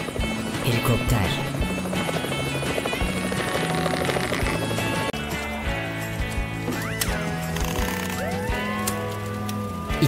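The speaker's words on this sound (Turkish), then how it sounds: "Helikopter." A toy helicopter sound effect plays loudly and continuously, with a whirring rotor drone and layered electronic tones that shift partway through, plus a few rising and falling whistling sweeps near the end.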